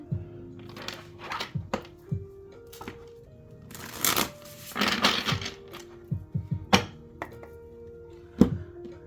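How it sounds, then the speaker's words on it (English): A tarot card deck being shuffled by hand, giving a string of crisp riffling bursts and card slaps at irregular intervals, close and fairly loud, with no talking. "I'm not going to shuffle for too long."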